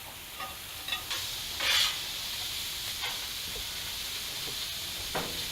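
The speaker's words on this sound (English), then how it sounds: "I'm just going to plop all of this food right out here on the griddle" Pancit ingredients sizzle on a Blackstone flat-top griddle outdoors, a low steady hiss with occasional brief louder bursts of spattering and scraping, heard without any voices.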